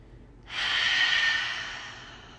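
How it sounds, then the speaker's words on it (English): A single long, breathy exhale during a gentle home yoga stretch, rising sharply then fading slowly, close and fairly soft. "Big breath out."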